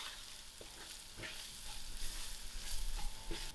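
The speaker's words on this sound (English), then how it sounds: "I'm going to add in all my masalas to my onion fry." Masala spices and onions fry softly in a pan for chickpea curry, a faint, steady sizzle broken by a few light stirring scrapes.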